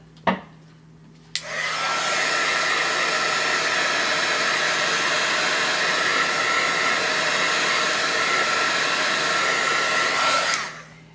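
A hair dryer blows steadily on paper to dry ink, switching on after a brief click and a short silence and running as a loud continuous whoosh for about nine seconds before cutting off.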